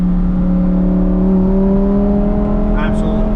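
A 2021 Lamborghini Huracan V10 with an open FI exhaust revs and pulls, its steady droning engine note climbing gradually in pitch while a passenger speaks faintly over it.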